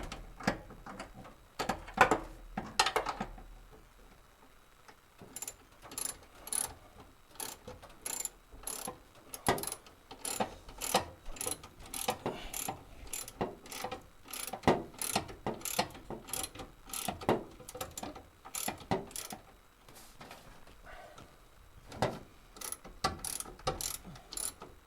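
A ratchet wrench tightens the bottom battery bolts on a truck, clicking in steady rapid bursts of close, loud pawl ticks that repeat throughout with brief pauses between strokes.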